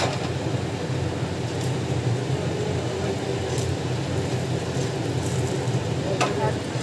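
Roasted ingredients tipped into a pan of cooking pregnancy-diet protein recipe and stirred, giving a steady close scraping and sizzling wash that holds evenly throughout, with no clear talk over it.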